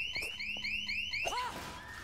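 An alarm in the Dead Island 2 video game rings out in repeated rising electronic chirps, several quick pulses in a row, then breaks off into a warbling sweep and a fainter steady tone.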